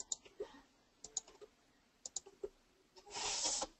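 A computer mouse clicks sharply several times in small clusters, close and quiet, followed by a brief soft rubbing hiss.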